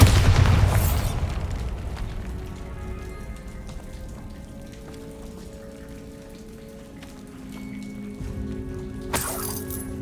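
A Bombarda spell explosion in Hogwarts Legacy erupts as a loud booming blast at the start, then decays into a long rumbling tail with debris pattering like rain, and a sharp pop near the end.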